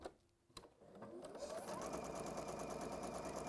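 A sewing machine stitching down one side of a piece of fabric, a few faint clicks and a thump, then steady whirring from the motor and needle that starts and keeps a fast, even rhythm close by.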